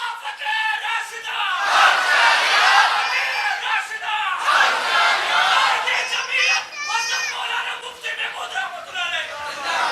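A large crowd at a Sunni religious conference in Bheen chants a slogan in loud, rhythmic group shouts, rising and falling in waves with voices overlapping.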